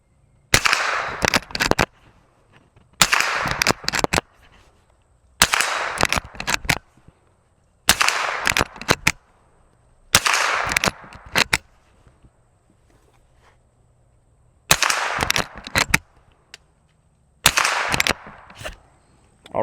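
Seven .357 rounds fired from a Gforce Arms Huckleberry lever-action rifle, each a loud sharp report followed by a short cycling clatter, with pauses of about one to two seconds between shots.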